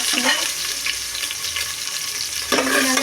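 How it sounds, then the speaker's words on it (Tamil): Onions sizzle in a pan for tomato rice, a loud, continuous frying hiss close by with light stirring scrapes and a brief utensil clink near the start and end. "இப்போ நம்ம வச்சுருக்க வெங்காயத்தை போட்டுக்கலாம் நல்லா"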